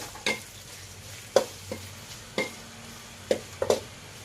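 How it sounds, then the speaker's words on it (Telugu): Tomatoes frying in oil for a korameenu fish curry, a soft sizzle under sharp, separate clanks of a spoon stirring against the pan at irregular intervals. "టమాటా కొంత ఆయిల్లో మగ్గాలి"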